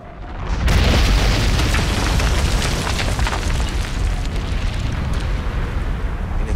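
Fiery explosion effect in an action movie, a deep booming roar that erupts suddenly and then holds as a loud, rumbling, crackling blaze for several seconds with no voices.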